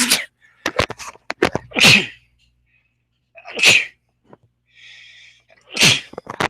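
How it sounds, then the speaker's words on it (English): Three sharp, loud sneezes spaced a couple of seconds apart, with small clicks and rustling in between. "Excuse me, I'm going to sneeze."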